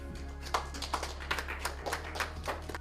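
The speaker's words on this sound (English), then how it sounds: "Please give him a round of applause." Sparse, quiet clapping from a small audience at an opening bell ceremony greets the Mayor of Gaborone, a few distinct hand claps in a loose irregular rhythm over a low steady hum.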